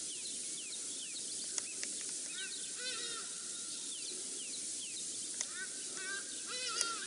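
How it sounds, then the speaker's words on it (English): A hadeda ibis flying past in the African bush gives faint, distant harsh calls that rise and fall in short bursts over a steady hiss of insects and open-air ambience. "It's a hardy-dar ibis, a bird flying past."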